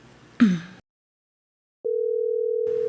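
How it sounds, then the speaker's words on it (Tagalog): A cellphone call tone comes through as one steady, unbroken electronic note lasting about a second, following a short breathy vocal sound and a moment of silence. "Aday ta, agriringan ti cellphone na"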